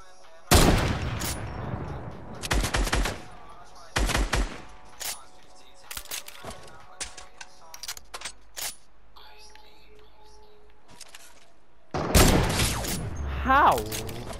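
Sniper battle gunfire in Fortnite: loud bursts of shots open the fight, then scattered sharper cracks spaced through a quieter middle stretch, and a heavy volley erupts again near the end.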